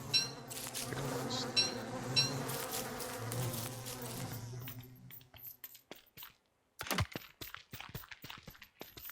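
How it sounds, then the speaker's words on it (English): Insect buzzing from a video game bee area, a dense, steady drone for the first several seconds, then thinning into scattered clicks and short bursts with a brief silent gap. "This is my bee area."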